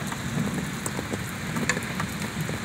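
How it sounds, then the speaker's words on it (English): Steady rain falling after a heavy thunderstorm, a continuous close patter with a few louder drops, with no thunder and no voices. "Aftermath of a rainstorm."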